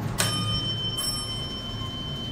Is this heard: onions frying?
no